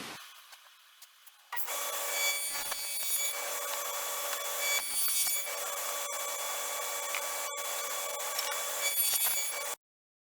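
Power saw cutting wood pieces against a fence for a glass lite panel, a steady loud whine that runs for about eight seconds with a few brief dips and stops abruptly.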